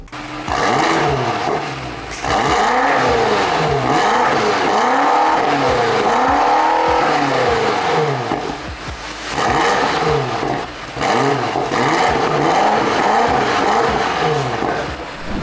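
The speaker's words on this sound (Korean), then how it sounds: "배기음 들어보고 넘어가 보도록 하겠습니다" A BMW X5 M Competition exhaust revs repeatedly, rising to a loud snarling roar and falling back in several bursts, close by, with crackling between the revs.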